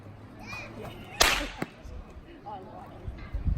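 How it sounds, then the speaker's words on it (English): A light, short yard whip used for moving cattle gives one sharp crack that stands out over faint background voices and outdoor noise, followed by quieter rustling and thumps. "So the yard whip is lighter and shorter, therefore not as loud."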